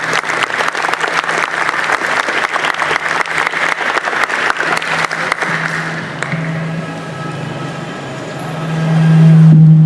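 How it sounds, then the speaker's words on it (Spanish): An audience at a criminal law event at a Superior Court applauds loudly for the speakers and a candidate; dense clapping runs for about six seconds, then fades into a low hum and room noise. "les pido a todos un fuerte aplauso para nuestros expositores y nuestro candidato"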